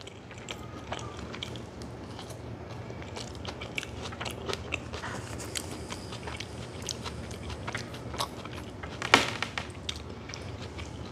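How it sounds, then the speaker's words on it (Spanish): Close, crunchy chewing of a Turkish-style sandwich with jalapeño, with irregular crackling bites and moist mastication over about eleven seconds and one sharper crunch near the end. "No resisto el sonido de masticar"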